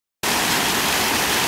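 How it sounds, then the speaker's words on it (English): A waterfall found on an outing, steady broadband rushing of falling water that starts abruptly and continues loud and unbroken. "Look what Joel found, a waterfall."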